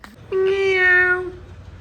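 A house cat gives a single clear, drawn-out meow close by, about a second long, with faint room noise and no talking over it.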